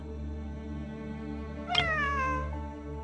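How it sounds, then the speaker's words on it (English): A single drawn-out cat meow that slides downward in pitch, fairly close and clear, rising out of a steady low background hum with no talking. "It really is a cat."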